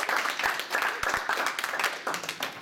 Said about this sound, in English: let's clap for Valeria.